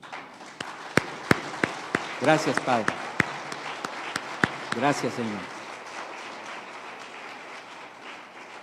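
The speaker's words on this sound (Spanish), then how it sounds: "Dele un aplauso al Señor." Congregation clapping in a Spanish-language church service, sharp rhythmic individual claps over a murmuring crowd, with voices calling out thanks and prayer partway through before the clapping thins.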